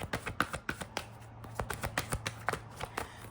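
Tarot cards are drawn and shuffled in a rapid series of close, crisp flicks and slaps, with no talking.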